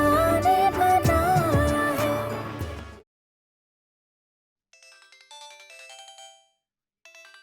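A melodic phone ringtone plays loudly, cuts off into silence, then resumes more faintly in short bursts.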